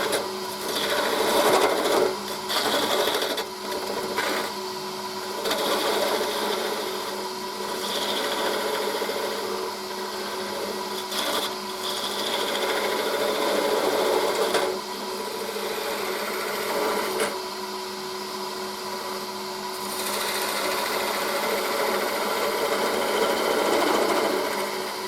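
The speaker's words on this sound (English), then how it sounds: "back to the 1/2 inch gouge to get some more shaping." A half-inch gouge cuts spalted hazel turning on a wood lathe, making a continuous scraping, whirring rasp that swells and eases with each pass, close and steady with no talking.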